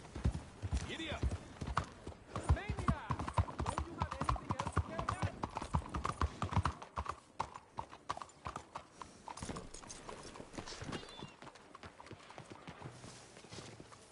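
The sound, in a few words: horse galloping in video game Red Dead Redemption 2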